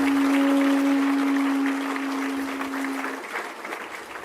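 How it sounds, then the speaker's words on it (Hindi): Audience of a Vihangam Yoga spiritual gathering applauding: dense, sustained clapping from a large crowd, loud at first and gradually thinning out, with a steady tone running beneath it. "सब एक दूसरे के उत्साह वर्धन में तालियों की गड़गड़ाहट कर रहे।"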